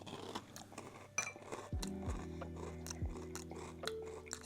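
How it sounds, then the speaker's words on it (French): Crunchy cereal being chewed with milk, several close, crisp crunching bites with wet mastication sounds and faint clinks between them, no talking over it. "on goûte, et le côté croquant est incroyable"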